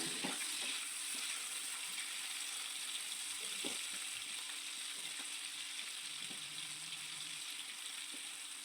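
Prawns shallow-frying in hot oil in a pan for a Kerala-style prawn roast, a steady close sizzle and crackle with a few soft clicks of turning, no voices.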